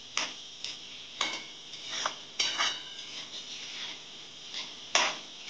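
Onions stirred in a pan for egg bhurji, a faint background sizzle punctuated by irregular metallic clicks and taps of a spatula against the pan, close and alone.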